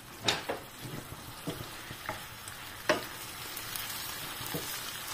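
Eggplant sautés in a pan with sesame oil, a soft, steady sizzle broken by scattered scrapes and clinks as the pieces are stirred, fairly quiet and close by.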